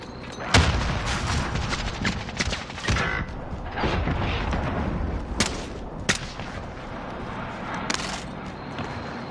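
Grenade explosion and gunfire in Call of Duty: sharp gunshots and booming blasts burst out repeatedly over a dense, noisy game-battle background, loud and close, with no talking.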